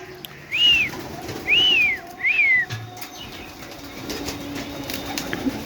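Pigeons in a rooftop loft, with three loud, close whirring bursts of wing flaps in quick succession, followed by softer fluttering and background rustle.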